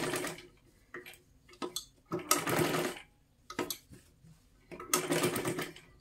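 A sewing machine stitches a princess blouse in short bursts of rapid mechanical whirring and ticking, stopping and starting several times with quiet pauses between runs, close and alone.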